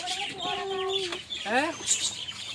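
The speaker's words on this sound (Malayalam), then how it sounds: "ഫുൾ ടൈം കൂവിക്കൊണ്ടേയിരിക്കും ആ സൗണ്ട് ഇല്ലെങ്കിൽ ഒരു സുഖമില്ല" A rooster crows nearby: one long wavering crow, then a shorter rising-and-falling call, fairly loud against faint background noise.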